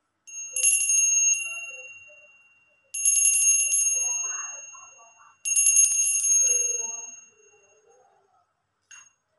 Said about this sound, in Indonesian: kita akan memulai dengan tanda lonceng berbunyi